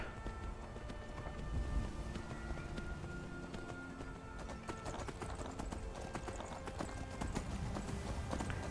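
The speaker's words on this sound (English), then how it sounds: "Alright, I got a horse." Horse hooves clip-clop in a steady walking rhythm along a road in the video game Skyrim, close and continuous under a low ambient backdrop.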